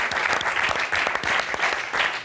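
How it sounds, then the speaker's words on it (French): Studio audience at an Algerian television game show breaks into steady, full applause that carries through the whole moment, with no voices over it. "Applaudissements pour Faziel."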